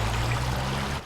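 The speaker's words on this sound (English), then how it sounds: "Runoff water surging." Storm runoff water surging past a closed bridge after tornadoes, a loud steady rushing wash that cuts out suddenly near the end.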